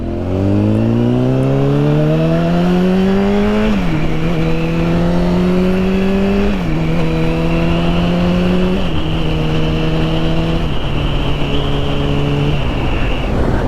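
A sport bike engine runs loud and close while riding, pulling up in pitch and dropping at each gear change several times over a steady roar of wind.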